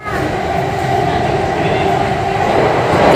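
A metro train rumbles steadily along the tracks, heard from inside a carriage, with a constant loud hum and rattle throughout.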